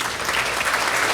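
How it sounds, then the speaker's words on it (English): Audience applause fills the room at a hospital merger ceremony, a steady dense wash of clapping from many hands, continuous and fairly loud throughout. "She'll be glad to know she got applause for not even being here."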